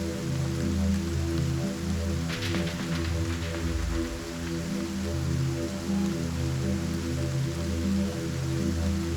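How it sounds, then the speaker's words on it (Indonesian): Heavy rain pours over Jakarta as a steady, loud hiss of falling water, partly blended with a sustained low musical drone, and no voices break in. "hujan deras disertai angin kencang melanda hampir sebagian ibu kota Jakarta"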